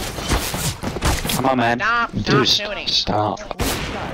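Video game gunfire, repeated punchy shots and thuds mixed with lively voices talking over the action.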